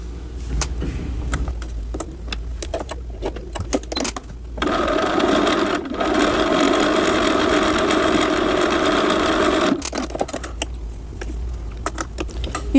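A sewing machine stitches a sweater hem with a steady, close mechanical whir for several seconds, framed by quieter clicks and handling noises before and after the run.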